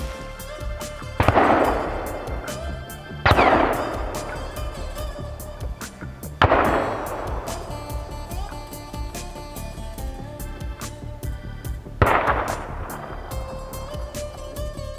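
Four loud, sharp gun blasts from a hunter's gun on public land, spaced a few seconds apart, each followed by a long fading echo and rumble.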